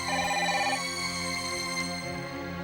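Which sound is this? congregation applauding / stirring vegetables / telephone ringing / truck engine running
telephone ringing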